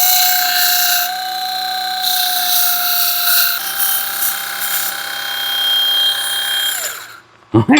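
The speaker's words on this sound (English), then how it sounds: "And then I'll drill a hole in that steel plate I got." A power drill bores a hole in a steel plate with a loud, high, steady whine that holds for several seconds, then winds down and stops, followed by a couple of brief knocks.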